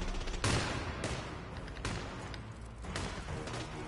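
Video game gunfire on a Sapienza map, a few heavy blasts and bursts over a continuous rumbling background, moderately loud, with short rattling volleys spread across the span.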